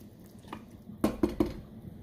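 A spoon stirs couscous sauce with hot water added in a pot with cardoons, knocking against the metal three times in quick succession among softer scraping.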